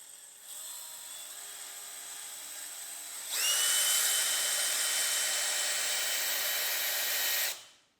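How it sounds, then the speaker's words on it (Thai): A DeWalt DCD996 cordless drill runs at low speed, starting with a quieter whir and then rising sharply into a louder, steady high-pitched whine that holds for several seconds before cutting off. "เดี๋ยวลองเจาะดู เอาเรโมทที่หนึ่งก่อนนะครับ เจาะช้า"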